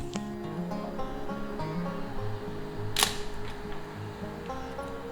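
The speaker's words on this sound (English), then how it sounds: "Wind the film at one lever and depress the shutter." A 35mm film camera's advance lever winds and its shutter releases during film loading, with faint ratcheting ticks followed by one sharp, crisp shutter click near the middle, close and quiet over a faint background hum.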